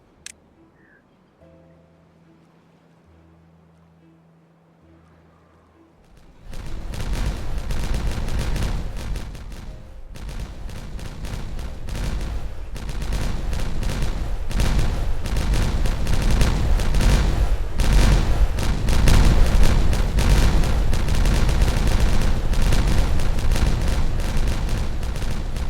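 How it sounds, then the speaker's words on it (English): Quiet in-game ambience of the Timberborn beaver colony-building game, then a mass of dynamite detonates all at once. A long, loud barrage of crackling blasts and booming rumble builds and sustains to the end. "So let's detonate."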